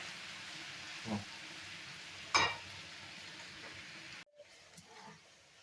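Potatoes fry in a pan for a spring salad, a quiet steady sizzle with a couple of soft clinks and a brief stir before the sound drops and resumes faintly.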